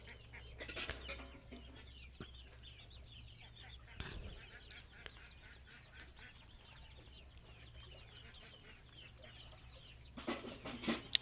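Chicks and ducklings on a farm raising native hens and ducks: faint scattered peeps and clucks over low background hum, with a few louder bursts of fluttering or scuffling near the start and end.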